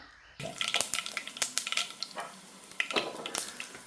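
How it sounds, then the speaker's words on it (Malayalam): Mustard seeds pop and crackle in hot oil, starting abruptly with sharp, irregular spits close by over a steady sizzle. "ചട്ടി ചൂടായി കഴിഞ്ഞപ്പോൾ കുറച്ച് എണ്ണ ഒഴിച്ചു അതിലേക്ക് നമുക്ക് കുറച്ച് കടുക് ഇട്ട് കൊടുക്കണം"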